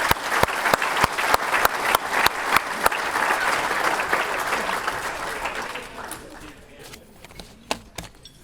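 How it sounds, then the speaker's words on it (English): Audience applause at the New Hampshire Golf Hall of Fame induction ceremony, a steady patter of many hands filling the room for several seconds, then thinning into scattered claps with a few louder isolated ones near the end. "let's give a round of applause for our Birdie Boys Player of the Year, Ben Moran."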